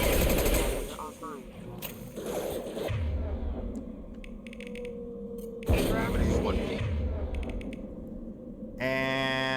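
Gunfire from a weapon fitted with an ammo mod in the Mass Effect 2 video game, with dense bursts of shots and mechanical clatter at first, then quieter game effects and a tonal hum near the end.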